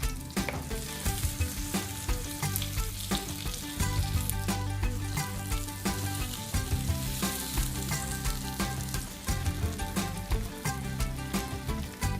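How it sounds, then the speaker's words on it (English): A whole branzino sea bass fries in a hot pan after being flipped to its second side, giving a steady, loud crackling sizzle throughout with no voices. "gently flip into other side of the fish and cook for 5 minutes"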